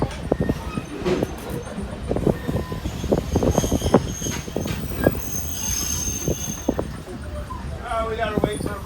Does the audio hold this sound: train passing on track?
yes